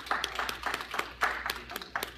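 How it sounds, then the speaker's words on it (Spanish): At a church gathering, a few hands clap in a sparse, rhythmic pattern, distinct individual claps rather than a full crowd, moderately close. "Un aplauso para estos hermanos."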